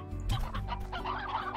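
A rooster in the video game Slime Rancher clucks in a short burst of several throaty, synthetic-sounding calls, clear and close with no talking.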